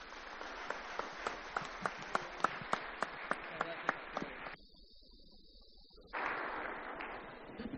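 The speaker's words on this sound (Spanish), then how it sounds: "también quiero darle un gran aplauso" Audience at a central bank forum in Bolivia applauding after closing thanks, a quiet spread of clapping with distinct sharper claps over a murmur, breaking off briefly before resuming louder.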